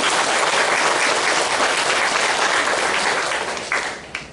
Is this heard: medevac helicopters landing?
no